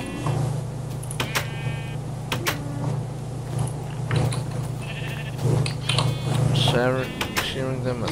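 Blocky video-game sheep bleat repeatedly in a Minecraft-style world, several short bleats scattered over a steady background hum, with a voice talking throughout.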